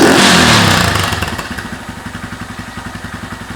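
Honda Grom motorcycle fitted with a Tyga high mount exhaust, baffle installed, blips its engine loudly, then drops back to a throaty, pulsing idle that chugs steadily and close by.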